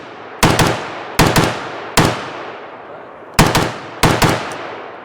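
Rifle fired on the S setting, five shots or quick doubled bursts spaced under a second apart, each a sharp loud crack with a short decaying tail, close and with no talking.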